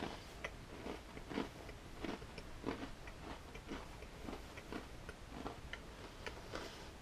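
Limeade Oreo cookies being chewed close to the mic, a steady run of soft crunchy bites about two per second, faint and with no talking.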